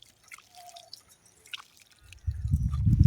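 Well water splashes and runs over freshly harvested tomatoes as they are washed, starting with a few faint drips and then growing into a steady, louder gush of water for the last second.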